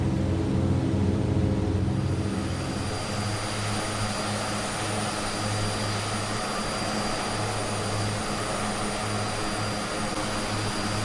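Aerosoft Twin Otter twin-engine propeller plane droning steadily in flight within Microsoft Flight Simulator, a loud continuous engine hum with a brief lower pitch shift near the start, no talking.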